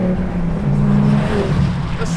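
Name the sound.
Donkervoort F22 sports car engine revving, accelerating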